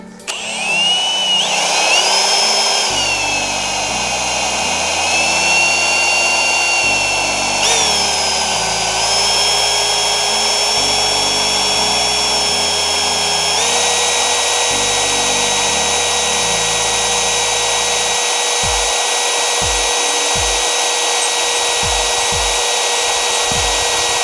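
A cordless Milwaukee drill runs with the same bit, drilling holes in a steady high whine that shifts pitch as it bites into the workpiece, with chattering clicks underneath and short bursts near the end.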